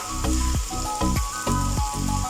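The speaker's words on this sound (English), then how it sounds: "So once onions have started frying up, we will add tomatoes." Onions sizzle steadily in a hot pan, with a rhythmic scraping as they are stirred every half second or so.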